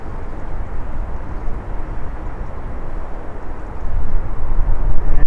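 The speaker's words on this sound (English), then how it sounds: "Another Dreamliner going out." A Boeing 787 Dreamliner airliner departs Manchester Airport as a steady, loud broadband engine roar that swells toward the end, heard alone with no talk.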